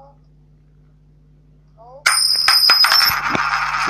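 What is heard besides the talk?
mobile phone notification ding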